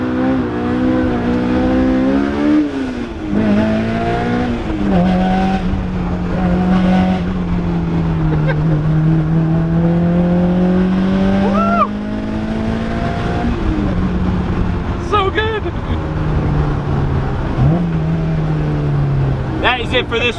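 Honda S2000 with a Ballade Sports titanium exhaust, driven hard at the limit, a continuous loud engine note rising and falling through revs and gear changes, with a brief tire squeal and people talking over it.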